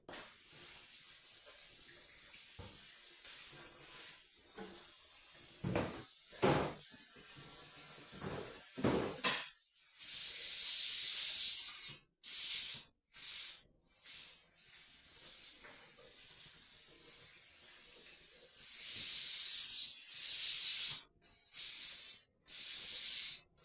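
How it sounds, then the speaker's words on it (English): Hands washed under a running kitchen tap, a steady hissing spray of water that starts and stops in several bursts of a second or two, after quieter rustling and handling noises. "I'm going to wash my hands"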